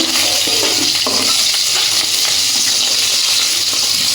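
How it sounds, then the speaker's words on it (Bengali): Rohu fish frying in hot oil in a wok, a loud, steady sizzle and crackle that fills the whole stretch with soft stirring clinks underneath and no talking. "মাছগুলো ভাজা হচ্ছে এদিকে"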